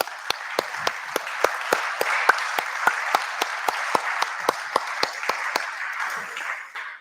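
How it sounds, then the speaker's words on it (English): Applause from an audience at a startup demo day, a dense bed of clapping with one or two sharp, regularly spaced claps standing out close by, sustained for several seconds before easing off. "a big round of applause for everyone"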